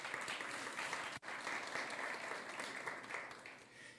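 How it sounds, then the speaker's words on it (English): Steady audience applause at a Rivercity Idol talent show, dense and sustained from many hands with one brief dip, fading slightly toward the end. "let's give a round of applause"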